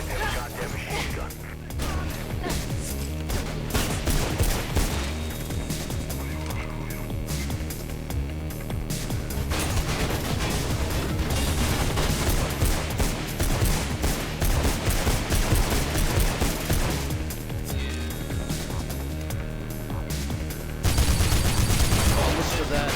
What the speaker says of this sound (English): Hey, they have a goddamn machine gun.